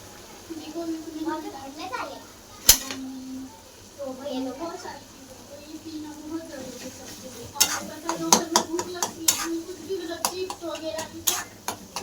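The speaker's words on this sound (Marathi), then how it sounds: "मसाला तेल सोडायला लागला तर आपण भेजा टाकून परतून घेऊ" Goat brain being sautéed in an oily spiced masala in a pan, with gentle frying sizzle and repeated sharp spatula knocks and scrapes against the pan, heard under intermittent speech.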